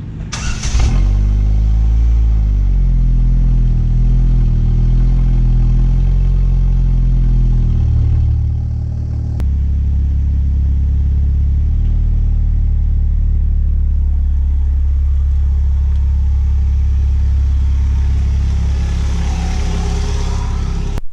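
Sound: car with turbo starting and revving

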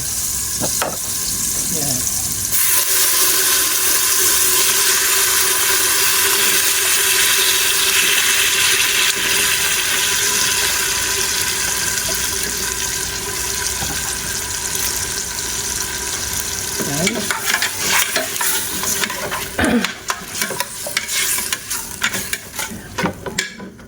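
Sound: chicken added to the pot for macaroni soup

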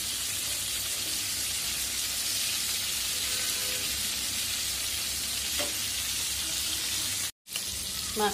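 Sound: fish frying in a pan

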